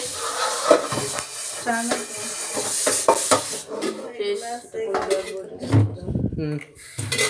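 Dishes and utensils being washed by hand with soap, plates and cutlery clattering and scraping in quick irregular bursts, close and fairly loud, with people talking over the clinking.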